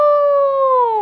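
A person imitates a wolf's howl for Howl at the Moon Day, one sustained, close, loud tone that slowly falls in pitch and fills the whole moment without other talk.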